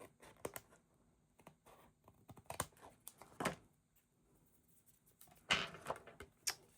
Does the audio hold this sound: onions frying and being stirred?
no